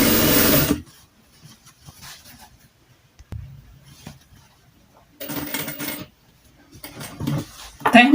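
A sewing machine stitches a seam on fabric for a children's skirt, giving short whirring bursts between pauses, with someone speaking at the start and near the end.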